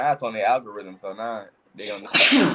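A person talks briefly with another, then a sudden, loud, breathy sneeze bursts out at the end, close to the listener.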